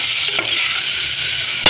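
Tomatoes with salt stirred in a hot frying pan for an Indian curry, a close, steady sizzle with brief scraping strokes of the spoon, ending on a louder clatter.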